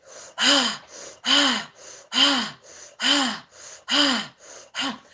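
Deep, forceful breathing exercise: five strong, evenly paced breath cycles, each a loud gasping inhale followed by a softer exhale, close to the microphone with no talking.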